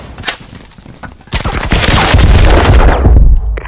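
Heavy video game gunfire in a firefight, a faint shot or two, then a loud sustained barrage of rapid automatic bursts that rumbles on before cutting off.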